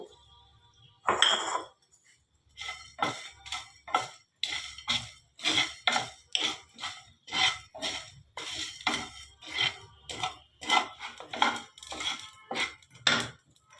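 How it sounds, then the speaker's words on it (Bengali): Whole spices such as cloves, green cardamom, cumin and coriander are dry roasted in a pan, stirred in a steady rhythm of short scraping, rattling strokes, close and fairly loud, after one sharper clatter at the start. "এটা আমি এখন শুকনো খোলায় ভেজে নেব"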